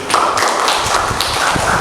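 A classroom of students in Indonesia applauds a classmate's good answer: a dense, steady wash of many hands clapping together, loud and close, lasting the whole stretch without a break.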